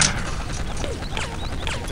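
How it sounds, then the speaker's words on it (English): A Molotov cocktail smashes in the video game Postal 2, with a sharp crash at the start followed by a dense, crackling burst of game noise that stays fairly loud throughout. "That guy just threw a Molotov at himself."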